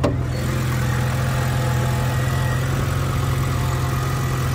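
A 2009 BMW 128i automatic with a six-cylinder engine idles steadily, recorded close up under the hood at an auction, with a constant low hum and no talking.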